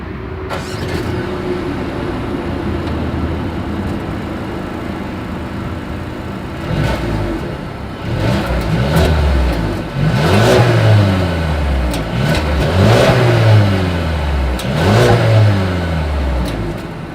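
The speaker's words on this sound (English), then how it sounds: "As always, here is that exhaust clip." A Mercedes-Benz A 220 engine idles with a low rumble, then revs repeatedly in strong surges, the exhaust roaring up and falling back several times, loud and close.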